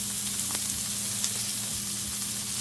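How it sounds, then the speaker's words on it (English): Bell peppers seasoned with all-purpose seasoning sauté in a pan, giving a steady, close sizzle with light crackle throughout and no voices. "And I'm just gonna let it saute for 2 minutes."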